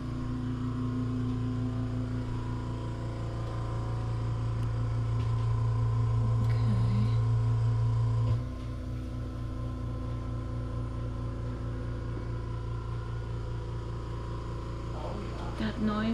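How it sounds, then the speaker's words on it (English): An oxygen machine pumps steadily inside a house, giving off a continuous motor-like drone with a tonal whine. Partway through, the hum shifts to a lower, lighter level and keeps running. "That noise, this is like oxygen machine, it's pumping oxygen."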